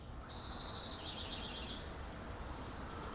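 Birds sing in Huntington Central Park, with faint, high twittering phrases repeating over a soft, steady outdoor hush, distant rather than close.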